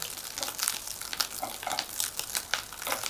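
Food crisps in a pan of oil over medium-high heat, a close, steady crackle with brighter pops and spits scattered through, and no one speaking.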